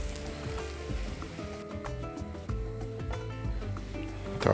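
Mushrooms and onion fry together with potatoes in a pan, giving a close crackling sizzle with scattered pops and faint clatter, growing louder near the end.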